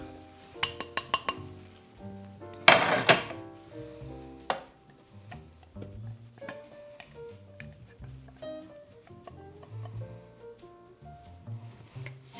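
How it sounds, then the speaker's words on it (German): Ingredients for almond biscuits, butter, sugar, vanilla sugar and an egg, tipped into a Thermomix mixing bowl, with bright clinks and taps of bowls and utensils, a brief rattling pour in the middle, and soft thumps, close and quiet. "Und das kommt jetzt alles in den Mixtopf hinein."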